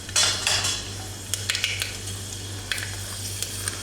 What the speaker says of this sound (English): Now to this oil is already heated up. Adding a spoonful of fenugreek seeds,